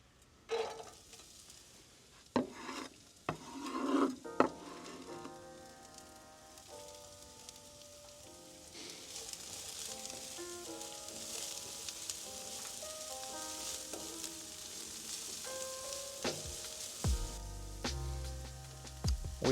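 Onions drop into hot olive oil at a desert camp cookout, a few pan clanks and clatters first, then a steady bright sizzle that keeps frying close by until the end.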